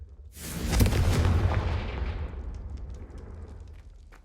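A Confringo spell blast in Hogwarts Legacy erupts in a single loud explosive burst, then fades into a long rumbling tail that dies away over several seconds, with no talking.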